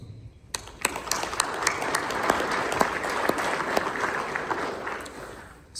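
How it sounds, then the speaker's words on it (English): An audience at a speech applauds member developers with sustained clapping at moderate level, many hands at once. It swells quickly, holds, then fades near the end. "So let's give a round of applause to our member developers."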